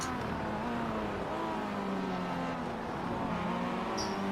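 Race cars lapping Laguna Seca in iRacing drone continuously, a loud, steady engine note that rises and falls slightly as it holds through the whole stretch, with no talk.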